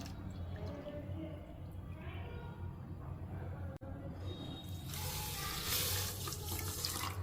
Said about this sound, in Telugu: ఇప్పుడు ఇందులో ఒక కప్పు వాటర్ వేసుకుందాం